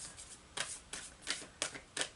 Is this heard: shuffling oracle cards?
yes